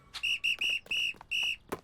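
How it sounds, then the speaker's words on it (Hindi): Whistle blown in a cartoon, a series of short shrill toots in uneven rhythm, five or six bursts close and loud with brief gaps, no talking. "हमें सीटी मिल गई।"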